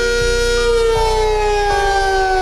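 A small Sentry 10V siren screams loud and close in a sustained, piercing wail. Its pitch steps and shifts several times over the steady tone.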